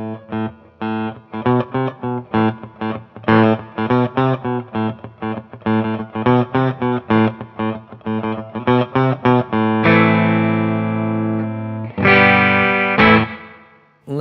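Electric guitar played through the spring setting of an affordable reverb pedal: a run of picked notes and chords with a driven tone, then longer held chords that ring out with a washy, lingering tail, alone without talk.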